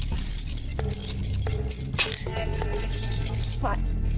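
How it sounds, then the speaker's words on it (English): A bunch of keys jangles and clinks as it is passed through a prison gate, several sharp metallic rattles close by under tense voices. "Pass your keys through. Take them."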